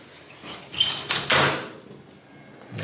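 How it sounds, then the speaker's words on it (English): A studio door in a pod accommodation opens after a keypad code is entered, giving a few close clicks and a mechanical latch release followed by a short swishing rush as the door swings. "that will open up the door into the studio"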